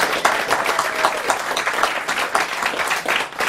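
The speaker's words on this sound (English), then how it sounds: "And I think we should give Jeff a round of applause for all the leadership he's given us in the" A crowd at a Massachusetts political campaign kick-off applauds steadily, dense overlapping claps at an even level throughout.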